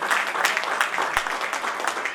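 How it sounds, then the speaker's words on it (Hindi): Steady applause from an audience at a Hindi poetry gathering in a hall, dense continuous clapping filling the room throughout. "जोरदार तालियां आपके लिए बजा दीजिए"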